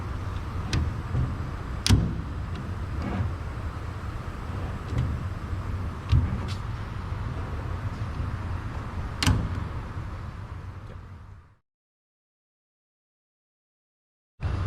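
On a T6 Harvard trainer, the tail wheel steering locking pin pops in and out with several sharp metallic clunks over steady background rumble, then everything cuts to near silence before the noise returns.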